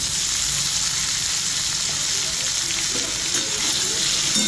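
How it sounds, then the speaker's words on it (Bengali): Chopped tomato and ginger paste fry in a pan of browned potatoes for a vegetarian aloo dum, giving a steady, dense sizzle that holds level and close throughout, with no talking. "একটু ভেজে নেব"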